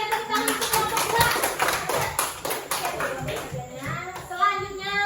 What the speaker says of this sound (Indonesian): Mari kita berikan tepuk tangan untuk kelompok 2.